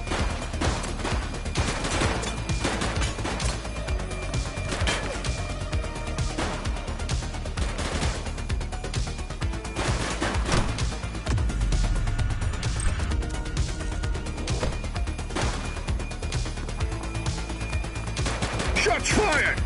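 Game gunfire in The Precinct rings out during a police shootout with an armed suspect: dense, rapid volleys of shots crackle continuously, loud and close, layered over a busy game soundscape.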